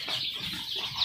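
Young Joper chicks, four days old, peep in a coop set up in the kitchen of an unfinished house: a brief, continuous chorus of high chirping nearby.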